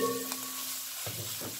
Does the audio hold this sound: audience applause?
no